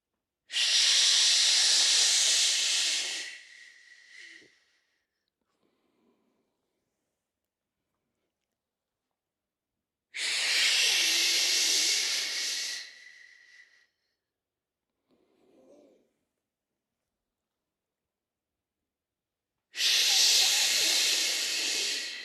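Three long, forceful breaths during an active breathing exercise, each a loud, airy hiss lasting about three seconds with quiet gaps between them, close to the listener and with no speech.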